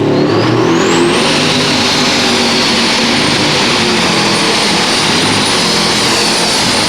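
A 4,000-horsepower pulling tractor roars at a European indoor tractor pulling event, a loud, sustained engine howl with a rising whine in the first second, then steady full power throughout.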